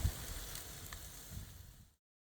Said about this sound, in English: Sizzling away in those lovely, healthy, natural oils they contain.